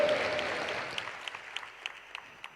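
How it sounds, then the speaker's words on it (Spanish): Church congregation applauding during a sermon, a burst of clapping that fades into a few scattered, distinct claps near the end. "Dele ese aplauso a nuestro Dios todopoderoso."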